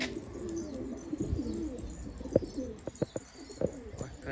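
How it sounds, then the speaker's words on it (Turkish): A crested pigeon coos softly and repeatedly in short, low pulses, with faint chirps and background bird noise, close by and without talking. "Bak perçemimiz bak burada maşallah ötüyor."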